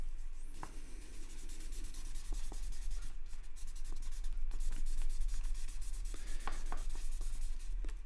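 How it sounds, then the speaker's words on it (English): Graphite smudged across paper with a blending stump, a soft continuous rubbing and scratching that runs steadily throughout at close range, with a few small taps along the way and no voices. "you can also, borrow the graphite that you put down with the blending stump"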